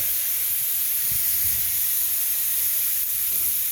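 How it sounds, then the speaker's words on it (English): Smash burger patties sear on a hot grill, giving a steady, loud, unbroken hiss that fills the whole stretch with no voices over it. "we're searing it so that way the bottom of the burger actually gets crisp"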